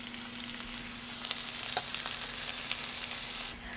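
Zucchini fry with coriander and cumin in a pan, a steady close sizzle with faint stirring clicks and no talk.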